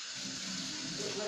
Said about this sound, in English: Wash dirty teacup full of tea that child didn't drink.